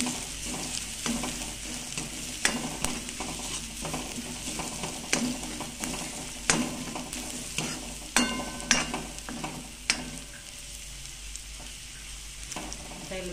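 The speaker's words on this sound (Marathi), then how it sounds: "त्याला चांगलं तेल सुटेपर्यंत परतून घेते चांगलं" A ginger, garlic and coconut paste sautés with pink onions in oil in a pan, a continuous close sizzle punctuated by repeated sharp spatula scrapes and clinks every second or so, with no talking.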